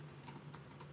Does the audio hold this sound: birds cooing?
no